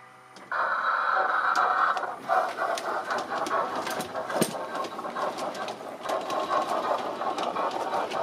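An LGB garden-scale model train locomotive named Spreewald runs on a layout in a loft, a steady close whirring motor hum that starts abruptly and continues with small clicks and rattles throughout.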